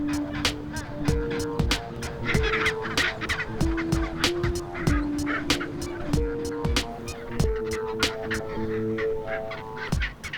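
Penguin colony in the Antarctic calling, a dense chorus of loud braying and trumpeting cries repeating in rapid overlapping bursts, close and continuous throughout.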